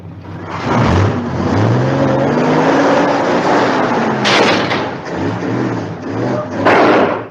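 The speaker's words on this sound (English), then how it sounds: "Kirk lets up on the clutch and the car goes backwards." Radio drama sound effect of a car engine revving loudly as the clutch is let up and the car rolls backwards, a steady motor drone with rising and falling revs and a couple of sharp bursts, close and alone.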